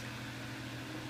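A Holmes Blizzard II electric fan running and oscillating, a steady close motor hum with a low tonal drone and an even airy whoosh.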